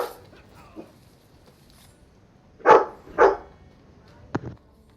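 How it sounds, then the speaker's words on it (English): A dog barks twice in quick succession at moderate distance, followed a moment later by a short sharp yip, with quiet gaps in between and faint background noise. "And he barks."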